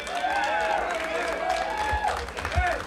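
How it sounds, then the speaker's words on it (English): Audience applause at a country dance show at The Chateau, a steady wash of clapping with crowd chatter and voices layered over it throughout. "give them a nice round of applause"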